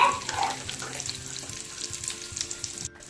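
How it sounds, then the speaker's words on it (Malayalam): Yogurt being poured into a simmering curry in a pan, giving a close, steady sizzling and bubbling hiss that fades and cuts off near the end, with no voices. "ഇനി ഞാൻ ഈ തൈരങ്ങ് ഒഴിച്ചു കൊടുക്കും കേട്ടോ."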